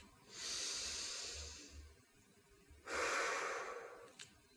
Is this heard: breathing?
yes